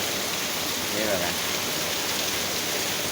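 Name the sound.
heavy rain falling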